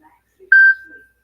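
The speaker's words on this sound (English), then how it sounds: "I think it was my notifications." A single loud phone notification beep, one clear steady tone lasting a fraction of a second, with faint background sounds around it.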